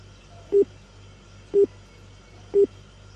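A phone gives three evenly spaced short tones about a second apart, clear and alone over quiet background hum, while a call is placed.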